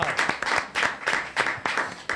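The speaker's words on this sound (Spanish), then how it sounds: "Un aplauso para ellos, por favor." An audience applauds two guests on a Spanish-language radio show, with steady rhythmic clapping in close, bright bursts throughout.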